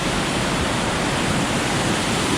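Meltwater rushes past a dam and mill in Quebec's Eastern Townships in winter, a loud, continuous broadband roar with no breaks.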